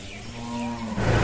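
A cow lows once at a cattle shed in Mayapur, a short, close, droning moo that swells slightly at the end.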